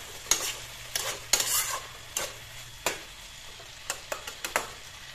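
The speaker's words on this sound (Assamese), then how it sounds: "ইয়াতে এতিয়া মই আদা নহৰু পেষ্টটো দিলোঁ" Ginger garlic paste frying in a pan while being stirred for a meat dish gives a soft steady sizzle, punctuated by a series of close scraping strokes of a spoon against the pan.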